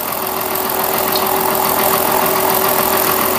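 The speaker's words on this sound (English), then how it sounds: "This is a nice brand new sharp cutter, so it's cutting really well." A fresh, sharp cutter on a milling machine run at its second pulley speed cuts metal, giving a steady, loud broadband whir with a constant mechanical tone throughout.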